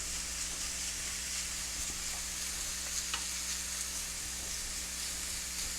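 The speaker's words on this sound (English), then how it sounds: "You can hear the sizzle." Continuous soft sizzling and frying hiss of chicken in a pan, steady and fairly quiet, with a few faint clinks of stirring.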